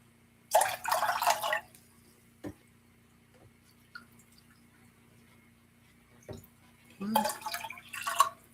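Vinegar is poured to make pickle brine in two short, close splashing bursts, one near the start and one near the end, separated by a quiet stretch with a few faint taps.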